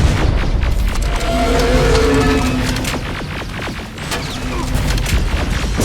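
A T-47 machine blown up in the game Terminator: Resistance, with a loud, sustained booming rumble and crashing debris that roll on for several seconds, close and heavy, with no voices.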